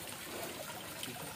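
Water flows from a cow-mouth spout into a stone tank at a hill fort during the rainy season. It makes a soft, continuous rushing trickle, faint and steady, with no talking.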